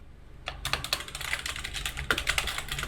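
Rapid, close keystrokes clatter on a computer keyboard during word-processor editing, a quiet pause first, then a dense run of clicks and taps with no voices.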